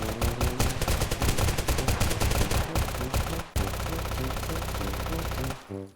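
Gunfire in the video game Zero Hour: loud, dense rapid-fire bursts crackle almost without pause for several seconds, with a brief gap before the shooting resumes and then cuts off sharply, with no talking.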